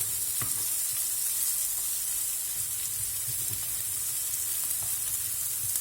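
Frozen, precooked mushrooms frying with onion and garlic in a pan give off a steady, close sizzle with a few faint stirring clicks and no talking.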